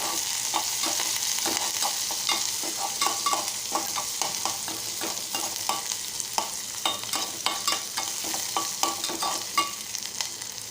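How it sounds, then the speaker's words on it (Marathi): A spoon stirs curry leaves and green chillies through hot oil in a pan for Malvani-style kulith pithla. A steady sizzle runs under irregular scraping strokes, with no talking. "कढीपत्ता व्यवस्थित ढवळून घेणार आहोत"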